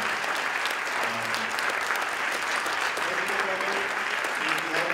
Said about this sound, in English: Another round of applause for them as well for supporting us again.